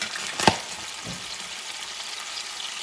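A petite sirloin steak sizzles in a pan after being flipped, a steady frying hiss with a sharp clack of the flip and a small thump early on.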